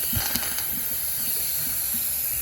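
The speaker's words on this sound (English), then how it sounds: "And now I've pressed the quick release. So the remainder of the steam escapes, and then the valve will drop," Steam escapes in a steady, loud hiss from the quick-release valve of a pressure cooker that is cooking a steak and kidney suet pudding, with faint rhythmic clicks beneath the continuous rush.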